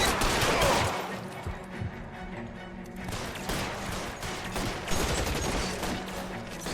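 Gunfire crackles in a 1940s Los Angeles shootout in L.A. Noire, a dense burst of rapid shots at the start, then scattered cracks and reports continuing at moderate loudness.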